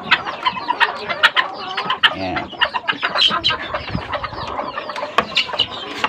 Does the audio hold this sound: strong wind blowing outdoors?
no